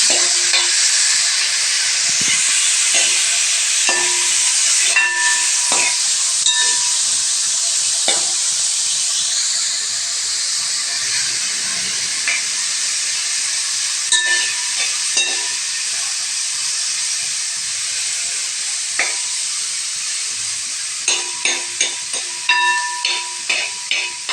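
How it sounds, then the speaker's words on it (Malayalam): Green chillies and curry leaves fry in a pan with a loud continuous sizzle and hiss, punctuated by scraping stirs, ending in a run of rhythmic spatula taps. "4 പച്ചമുളക് കട്ട് ചെയ്തത്, വേപ്പില എല്ലാം ഇട്ട് നമുക്ക് ഇളക്കാം."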